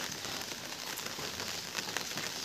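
Steady rain falls during a continuing downpour, a dense even hiss with scattered drop crackles and a couple of sharper taps near the end, no voices.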